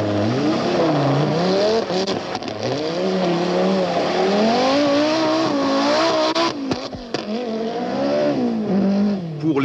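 Peugeot 205 rally car driving on loose terrain during the 1985 Rally of New Zealand, its engine loud and close, revving and shifting in rising and falling pulls, with brief gravelly bursts near the end.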